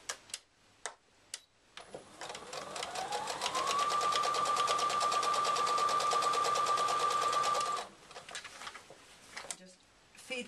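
A sewing machine stitches a reversible handbag in one sustained run of rapid, rhythmic needle clatter, preceded and followed by a few sharp handling clicks and light talk.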